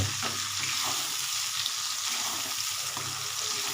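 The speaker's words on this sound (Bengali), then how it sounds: "এই পেঁয়াজগুলো যতক্ষণ না বাদামি কালার আসছে বা রসুনটা এটা নাড়াচাড়া করে যেতে হবে" Onions and garlic sizzle steadily in oil in a pan on a raised flame, with occasional scraping as they are stirred, loud and close with no talk.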